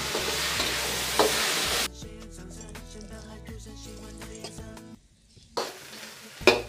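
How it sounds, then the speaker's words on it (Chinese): Radish greens are stir-fried in a pan, giving a loud hiss of sizzling with scraping stirs and clinks of a utensil against the pan, broken by a quieter stretch before the sizzle returns. "把这个萝卜菜都炒一炒"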